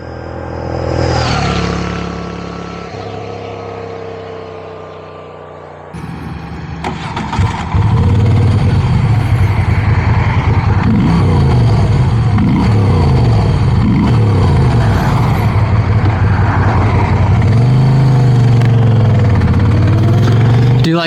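Moto Guzzi V7 Stone motorcycle, first a rising engine whine that fades, then the bike pulls away and the engine revs repeatedly through the gears with a loud, throbbing, pulsing beat, close up and continuous, no talking.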